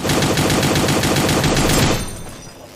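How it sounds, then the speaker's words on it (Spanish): Sustained automatic gunfire in the mobile shooter Cyber Hunter, a loud rapid stream of shots lasting about two seconds before cutting off into quieter game sounds. "¿Quién me dispara ahora?"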